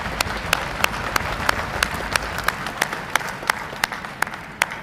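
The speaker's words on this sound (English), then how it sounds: "how about a round of applause for our award recipients and the outstanding unit performance before you here today" Applause from the audience at a Navy boot camp graduation at Recruit Training Command, Great Lakes, Illinois, for award recipients, a steady wash of clapping with sharp, rhythmic claps standing out close by.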